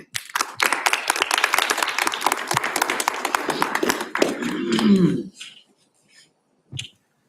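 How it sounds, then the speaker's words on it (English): A conference audience claps loudly and densely at a presentation event, the applause fading over several seconds into near silence with a couple of faint bumps at the end. "let's have one more round of applause"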